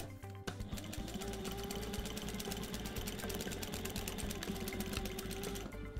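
A Sailrite Fabricator walking-foot sewing machine sews a French seam with a quiet, fast, regular chatter of needle strokes from start to finish.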